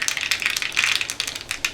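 Mustard seeds crackle in hot oil for a tempering of Gujarati sweet-sour dal, giving rapid, irregular close-up pops and sputters in a continuous, moderately loud burst.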